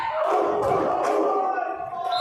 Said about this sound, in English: Massive cheers from the Ireland bench and the crowd in unison.